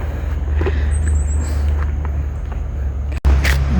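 Traffic on a nearby main road outside a campsite in Baguio, Benguet, rumbles as a low continuous hum with a few passing vehicle sounds and a brief cut near the end.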